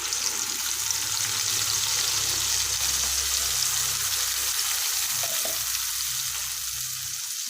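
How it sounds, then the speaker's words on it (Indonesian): Blended spice paste is poured into hot oil and crackles in a loud, dense, steady sizzle that holds throughout, easing slightly toward the end. "ini minyaknya sudah panas. Lalu aku tuangkan bumbu yang sudah aku blender tadi ya"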